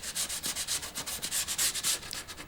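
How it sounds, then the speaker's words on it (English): Steady rhythmic rubbing as the edge of a wooden guitar body blank is roughed up with sandpaper, close and fairly loud strokes repeating without pause. "Now I'm just roughing up the edge a little bit to make sure the glue gets good adhesion."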